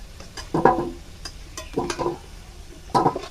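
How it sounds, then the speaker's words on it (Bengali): Potatoes frying until reddish-brown in a pan, stirred in three short scraping, sizzling bursts over a quieter steady sizzle, close and clear with no talking. "লাল লাল করে ভেজে নিয়েছি আলু"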